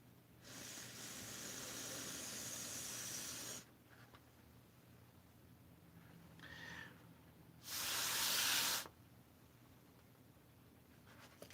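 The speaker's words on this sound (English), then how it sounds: "Regular Sharpie turned into an airbrush." A regular Sharpie marker rigged as an airbrush sprays in two bursts, a long hissing spray of about three seconds and then a shorter, louder one, with a faint hiss between them and no talking.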